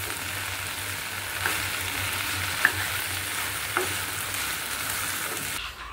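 Vegetable bhaji frying in a pan, a steady soft sizzle heard close up, broken by a few faint scraping stirs and taps, with no voices.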